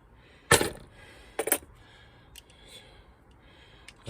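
Metal sockets from a socket set clink and rattle in two sharp bursts of rummaging, close by, followed by lighter faint clicks and soft breathing.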